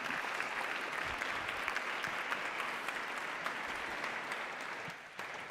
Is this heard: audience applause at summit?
yes